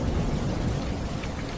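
Steady heavy rain pours down with deep rolling thunder beneath it, a dense continuous wash with no voices.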